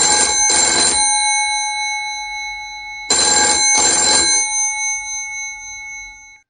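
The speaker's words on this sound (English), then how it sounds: "Isn't anybody answering the phone? Somebody answer the phone." An old-style telephone bell rings in two long bursts, each a rapid double trill, loud and close, with a silent gap between them and a fading tail at the end.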